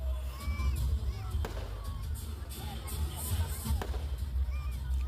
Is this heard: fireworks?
yes